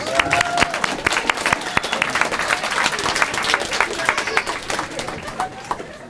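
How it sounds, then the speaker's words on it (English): A live audience at a Madison story slam gives the judges a round of applause, dense sustained clapping that fills the room and tapers slightly toward the end. "Let's give all the judges a round of applause."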